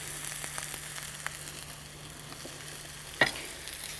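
Rice fries with chopped ginger in a pan, a quiet steady sizzle with light stirring taps and one sharper clink near the end, close up.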